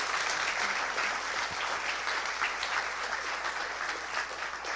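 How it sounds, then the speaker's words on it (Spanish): A church congregation applauds loudly and continuously, dense clapping filling the space for the whole few seconds. "Vamos a darle un fuerte aplauso al Señor."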